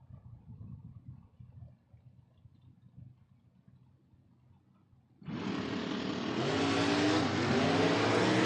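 A Chevrolet Monte Carlo and a Ford Mustang race car launch together at a creek-side race track, engines bursting from near silence into a loud, sustained full-throttle roar that holds steady for several seconds.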